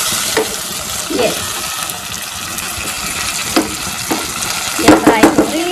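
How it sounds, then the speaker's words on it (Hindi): Fresh okra (bhindi) frying in a pan, a loud continuous sizzle broken by scraping stirs at irregular intervals, clustering toward the end, with no speech. "तो हम इसको हल्का हल्का फ्राई करेंगे।"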